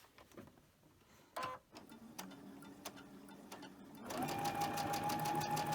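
Domestic sewing machine stitching cotton fabric cut on the bias, starting with a few clicks and quiet mechanical ticking before the motor runs up into a steady, close whirring stitch rhythm.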